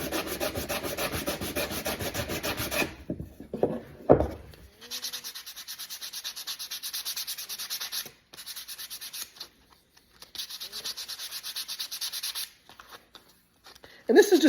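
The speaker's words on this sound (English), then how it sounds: "Just give these all a quick little hand sanding" Small pieces cut from an old scrap 2x4 are sanded by hand, giving a close, steady scratchy rubbing in repeated strokes, broken by a few short pauses and light knocks.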